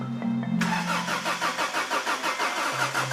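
A Honda Prelude being started: the starter motor whirs, then the engine catches and fires into a loud, pulsing, uneven idle, close by.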